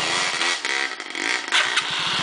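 Motorcycle on a muddy dirt trail, its rear wheel stuck in a ditch, the engine revving and straining in uneven bursts with wheel churn, close and loud.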